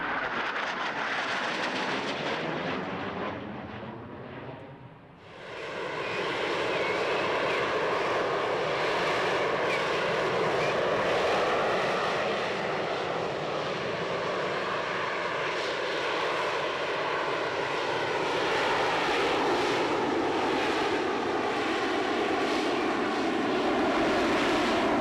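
A loud Rolls-Royce jet engine of an AV-8B Harrier, 23,000 pounds of thrust, roars continuously at close range, its whine dipping briefly then swelling into a sustained, powerful rushing blast.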